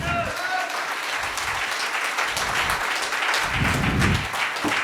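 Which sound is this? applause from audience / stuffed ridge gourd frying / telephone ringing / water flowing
applause from audience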